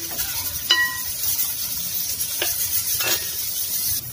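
Vegetables for a salted fish curry soften in a hot pan with a steady soft sizzle and hiss, broken by a few sharp clinks and scrapes of a spoon stirring against the metal, close and clear.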